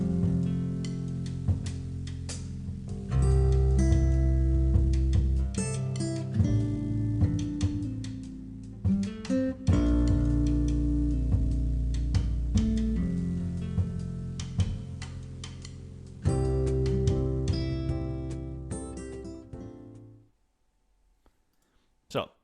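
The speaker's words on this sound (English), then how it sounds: "if you want the music to fade out, it might sound a little bit more" Background music track for a podcast segment plays steadily at full level, with chords and percussive hits, then fades out smoothly over the last couple of seconds into near silence.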